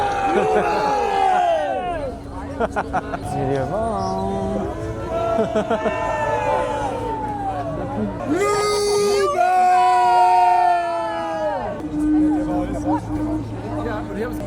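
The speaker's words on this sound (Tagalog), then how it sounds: "May mga narinig kami na sumisigaw." A crowd of voices shouting and calling out over a busy outdoor din at a medieval-costume parade at the Munich Christmas Market, loud and continuous with rising yells and cries.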